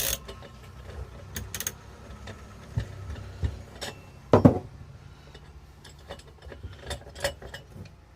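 Fork bolts on a Kawasaki ZX6R motorcycle are loosened with hand tools, giving scattered metallic clicks and ticks, including one louder clunk midway, against quiet workshop background.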